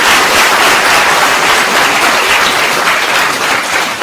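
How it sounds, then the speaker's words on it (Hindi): Loud, dense audience clapping at a ceremony presenting bicycles to three top-scoring schoolgirls, steady and continuous with no voices over it. "एक बार जोरदार ताली बजा दीजिए"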